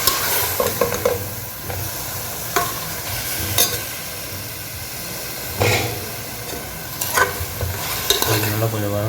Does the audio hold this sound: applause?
no